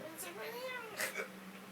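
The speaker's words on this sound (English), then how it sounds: "No one wants to look at your pussy cat." A pet cat meows indoors, a drawn-out, wavering call rising and falling over about a second, heard amid people talking nearby.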